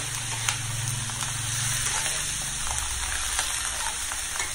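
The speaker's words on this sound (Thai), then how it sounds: "เราก็ค่อยเอาผักกาดขาวใส่ลงไปค่ะ ผัดจนกว่าผักกาดขาวจะสลดเนาะพี่น้อง" Napa cabbage is stir-fried in a hot pan with cooked pork, giving a steady, loud, close sizzle throughout with occasional stirring scrapes and no talk.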